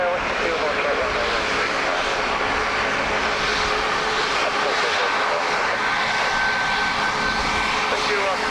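A plane landing on runway 28 left at Dublin Airport gives a steady broadband engine roar that holds for several seconds, with radio chatter over it.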